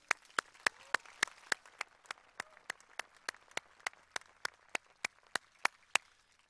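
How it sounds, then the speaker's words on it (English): A small audience at a Class of 2021 high school graduation ceremony claps, sparse distinct handclaps in a steady even rhythm, fairly quiet and heard alone without talk. "I'd like to give him another round of applause."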